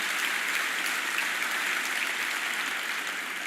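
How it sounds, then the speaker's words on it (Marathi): An audience applauds loudly in a dense, unbroken wash of clapping. "म्हणून जोरात टाळ्या वाजल्या पाहिजे"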